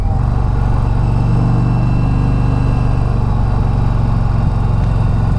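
A 2023 Indian Pursuit Dark Horse motorcycle engine drones steadily and loudly on a test ride, a low rumbling exhaust note holding near-constant revs throughout with no talking.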